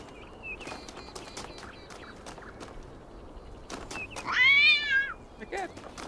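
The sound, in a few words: cat meowing in video game The Talos Principle 2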